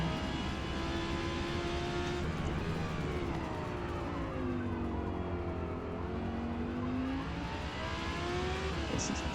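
An Audi R8 race car engine in Forza Motorsport drones steadily at high revs, its pitch climbing and falling through gear changes for a sustained stretch of a GT3 lap, loud and without any talk.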